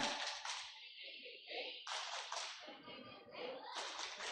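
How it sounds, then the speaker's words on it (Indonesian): Teachers at an elementary school clap out a rhythmic routine, several bursts of sharp hand claps in quick patterns alternating with chanting voices, fairly close and moderately loud. "Coba untuk guru-guru hebat tepuk luar biasa."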